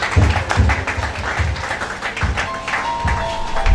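A church congregation claps during a prophetic worship service, with dense, uneven applause running steadily throughout and faint voices mixed underneath.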